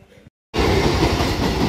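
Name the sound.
train passing by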